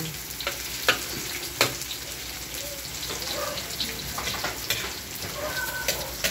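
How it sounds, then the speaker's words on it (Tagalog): Garlic fries in a pan for a seafood lunch, giving a steady close sizzle with occasional stirring clicks and scrapes throughout. "Pa-brown na yun ang bawang."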